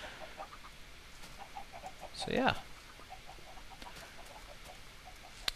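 Minecraft chickens by a player-built chicken coop, with a burst of clucking near the middle plus scattered soft clucks throughout, moderately loud, while someone speaks briefly.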